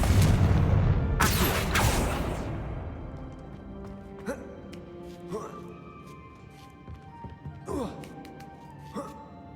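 A Confringo fire spell is cast in Hogwarts Legacy, producing a loud, booming blast at the start that rumbles and fades over a couple of seconds, followed by scattered lighter impacts and crackles.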